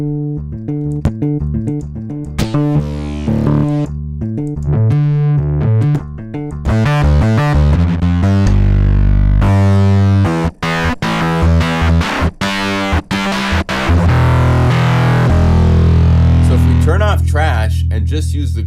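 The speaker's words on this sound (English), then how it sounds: "This is what sounds really great with distortion." Electric guitar played through the Trash distortion plugin, loud distorted chords and notes in choppy bursts, with sustained crunchy tones near the end.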